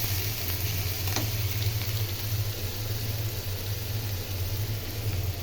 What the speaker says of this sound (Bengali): মাছটা নামিয়ে এখন আমি পেঁয়াজটা বসিয়ে দিই